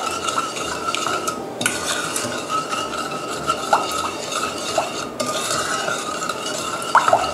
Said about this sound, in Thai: คนให้ส่วนผสมละลายเข้ากันนะคะ